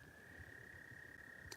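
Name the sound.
frogs croaking by a lake at early morning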